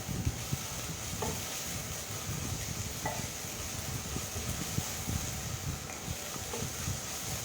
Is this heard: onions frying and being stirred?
yes